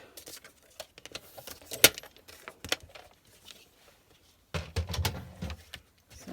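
Scissors cutting out paper for a page corner embellishment, heard as irregular close snips and small rustles with quiet gaps between them and one sharp click.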